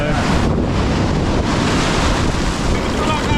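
Ocean surf washing steadily onto an Australian shore at high water, loud and continuous with heavy wind rumble buffeting the microphone throughout.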